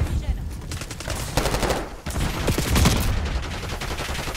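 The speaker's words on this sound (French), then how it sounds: "Que le mec il tire n'importe où" Rapid automatic gunfire rattles in a Black Ops 6 match, with dense bursts of shots packed close together, a brief break near the middle, then more sustained firing, loud and near.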